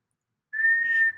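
A person's voice imitates a referee's whistle blast during a Mr. Jack board game, one steady, clear, shrill note held for about half a second.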